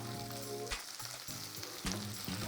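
Onions sauté in a pan for spinach kootu, a continuous close sizzle with stirring scrapes every half second or so.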